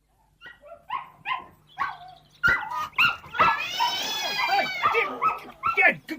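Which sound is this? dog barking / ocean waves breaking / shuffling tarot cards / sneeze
dog barking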